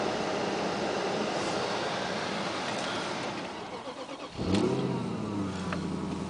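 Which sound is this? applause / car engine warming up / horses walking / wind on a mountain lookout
car engine warming up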